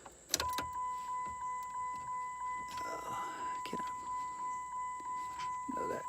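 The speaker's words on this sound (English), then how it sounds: "So we'll go ahead and start the car." A Dodge car being started from inside the cabin: a sharp click, then a steady electronic tone pulsing at a regular beat, with a short rough burst of engine noise partway through. No one speaks.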